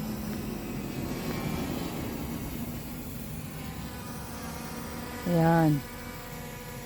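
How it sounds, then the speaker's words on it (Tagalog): A small camera drone hovers and descends outdoors on a mountain road trip, giving a steady, thin buzzing whine at moderate distance, and a voice briefly calls out near the end. "ayan na po yung drone, pababa na"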